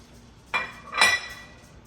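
Two light clinks ring out as boiled egg halves for deviled eggs are set onto a small dish, one short tap followed half a second later by a brighter, slightly longer ring, close and alone.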